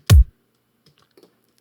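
A single punchy kick drum hit thumps once with a deep, quick-decaying boom, followed by near silence and a few faint clicks.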